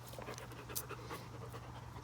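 A retired guide dog, a female always eager to chase a ball, pants close by in quick, rhythmic breaths, faint but continuous and alone, with no talk over it.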